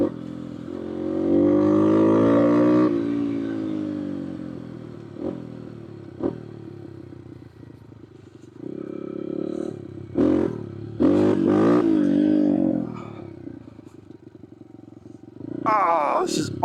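A BBR big bore Yamaha TTR125 dirt bike is ridden nearby, its engine revving and surging in bursts with gear changes and brief lulls, while a rider talks excitedly between throttle runs.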